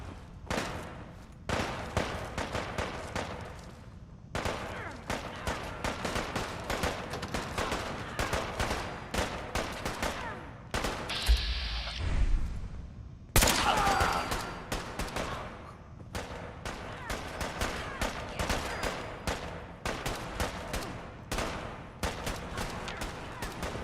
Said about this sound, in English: let's see if we can sort this shooting out first, shall we?